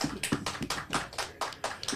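Applause from a small audience on a talk show, a sparse, uneven patter of individual hand claps, fairly close and light, with no one talking over it.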